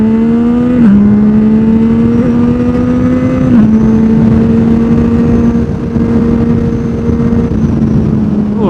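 Yamaha MT-09 motorcycle engine pulling hard on a straight, a loud steady drone rising in pitch through two quick gear changes, close and continuous with wind rush and no talk.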